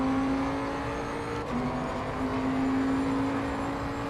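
A GT3 race car in Assetto Corsa Competizione holds a steady engine drone at speed, one constant whining tone that dips briefly midway and then resumes, loud and continuous with no talk.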